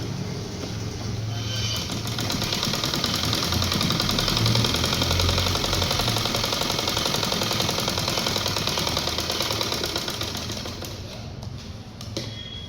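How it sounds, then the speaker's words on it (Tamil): A sewing machine stitches trousers in one continuous run, a close, fast, rhythmic clatter that speeds up, holds steady and then slows toward the end. "இன்னொரு தையல் போட்டுறேன்."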